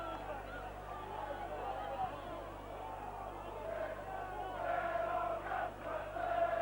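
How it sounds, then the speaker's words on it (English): St Helens rugby league supporters at a 1997 Challenge Cup tie away at Keighley raise a rising, sung chant from the distant stands, swelling toward the end beneath a commentator's steady talk. "The Saints crowd are up now with the Wembley chant."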